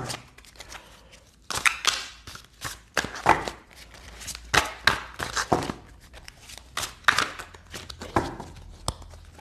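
A deck of tarot cards is shuffled and cut by hand, giving irregular soft riffling and slapping bursts with brief pauses, fairly close and quiet.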